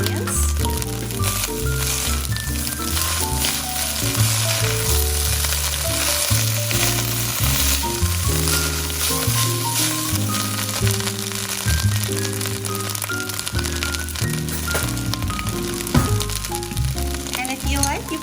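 Egg fried rice sizzling and being stirred in a hot pan as scallions go in, a loud continuous crackle with scraping stirs throughout, with music or a voice underneath.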